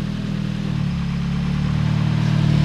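A fully built Nissan S15 Silvia runs on a dyno, its engine holding a steady, loud mid-pitched drone that swells slightly toward the end, with no voices.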